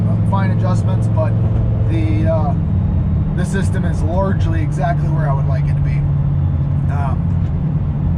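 A twin-turbo Lamborghini Huracan drives with a steady low engine drone and road rumble underneath, while someone talks over it close to the microphone.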